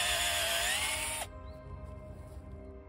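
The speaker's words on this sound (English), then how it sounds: "All you need to do is drill the holes into your log" A power drill whines loudly and steadily while drilling into a log, its pitch sagging under load before it abruptly stops, leaving a quiet hum behind.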